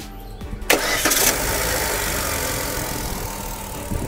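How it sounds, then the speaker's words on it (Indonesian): A Chevrolet Spin's engine cranks briefly and catches, then settles into a steady idle, recorded up close in a workshop during an automatic transmission oil change, with no talking. "Habis itu kita nyalakan mesinnya. Oke, kita nyalakan mesin."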